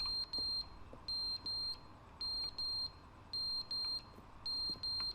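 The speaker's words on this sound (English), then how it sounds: "What's that beeping?" Electronic alarm in The Stanley Parable giving repeated paired high beeps, about four double bursts in steady rhythm, clear and alone with no talk.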